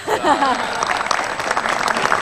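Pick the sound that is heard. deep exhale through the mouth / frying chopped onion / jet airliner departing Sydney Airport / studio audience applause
studio audience applause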